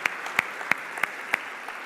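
Church congregation applauding, a dense, even wash of clapping with a few sharper claps standing out, heard from within the room.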